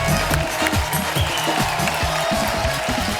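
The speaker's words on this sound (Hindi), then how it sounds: "आप सबकी जोरदार तालियों के बीच प्लीज वेलकम" Steady audience applause fills the whole stretch, loud and continuous, over a thumping low-pitched backing beat.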